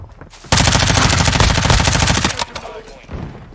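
MP5 submachine gun fire in Modern Warfare 2, one loud, close, sustained rapid burst lasting about two seconds, then a short quieter shot later.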